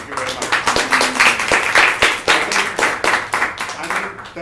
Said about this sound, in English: I do deserve a clap